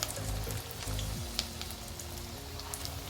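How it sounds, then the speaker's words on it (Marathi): Palak vada, Maharashtrian spinach fritters, frying in hot oil in a second batch, with a steady crackling sizzle throughout and no voices. "दुसरी बॅच आपल्याला तेलात टाकायची वड्यांची"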